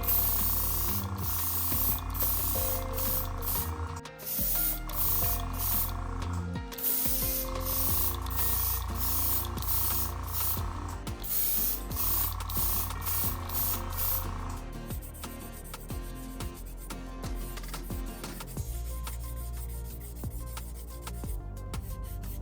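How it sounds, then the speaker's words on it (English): Kaleido black primer hisses steadily from a spray can onto the body of an Aoshima Nissan Skyline GT-R model car, in long continuous bursts with a few short breaks, close and moderately loud. "I will give the body 2 coats of Kaleido black primer"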